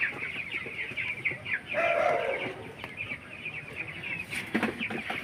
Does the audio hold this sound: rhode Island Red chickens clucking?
yes